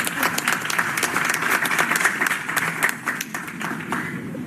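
An audience claps and cheers at an event about school violence protocols, a dense burst of applause that holds for several seconds before thinning slightly, with no speech over it.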